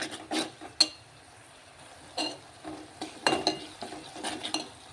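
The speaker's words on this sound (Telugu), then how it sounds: "అల్లం వెల్లుల్లి పేస్ట్ కూడా పచ్చివాసన పోయేంత వరకు ఫ్రై చేసుకుందాం" Ginger garlic paste frying in a pan, with a few bursts of stirring and scraping against the pan over a faint, quiet sizzle, heard alone without voices.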